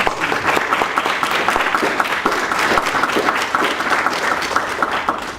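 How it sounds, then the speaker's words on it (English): A crowd claps steadily for several seconds, a loud sustained round of applause filling the room. "Can I get a round of applause for all those candidates?"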